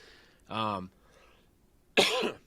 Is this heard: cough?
yes